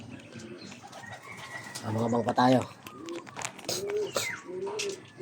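Racing pigeons coo and flap their wings while arriving home during a training flight in Antipolo, Rizal, with crinkling and rustling near the middle, and someone talking over the birds throughout.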